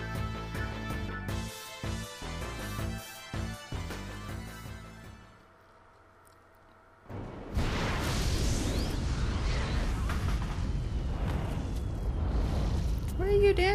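An explosion in the Final Fantasy IX video game, with a brief quiet lull followed by a sudden, sustained rumbling blast that continues to the end. Game music and dialogue play before it.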